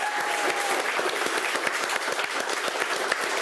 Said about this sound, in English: huge round of applause for Dave.